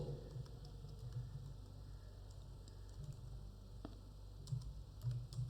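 Soft, sparse computer keyboard taps and clicks while typing in Excel, over a low steady hum, quiet and close with irregular gaps between keystrokes.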